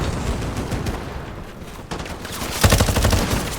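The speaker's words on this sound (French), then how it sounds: "Ah oui, les mitrailleuses. Ah, ça c'est une mitrailleuse." Machine-gun fire in a Modern Warfare campaign battle, loud rapid bursts that swell into continuous rattling toward the end, with dense battlefield noise behind and no speech.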